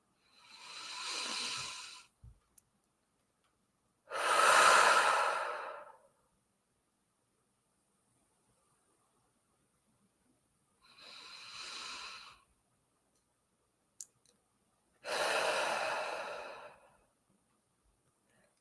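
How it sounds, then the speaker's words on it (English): A person takes slow, deep breaths, with long airy inhales and exhales in four separate swells separated by silent pauses, close and soft against a still background. "big breaths in and out."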